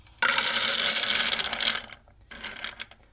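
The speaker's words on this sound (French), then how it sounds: "je vais ensuite mixer par petits moments de 1 à 2 minutes" Blender whirring as it grinds hazelnuts and chocolate into a homemade spread, a loud steady run of about two seconds, a brief stop, then another short burst.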